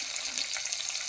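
Sponge gourd sautés in a hot pan with oysters, giving a steady, close, bright sizzle that stays even throughout.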